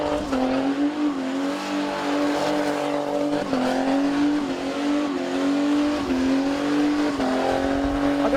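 A 1997 Holden VS Commodore race car driving hard, its engine note loud and sustained with rising and falling revs, gear changes and faint tyre squeal, with no talking.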